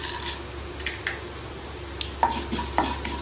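Mustard seeds, urad dal and chana dal frying in oil in a kadai, heard as a soft steady sizzle with a few light crackles and faint spoon-against-pan clinks, close and quiet, no voices.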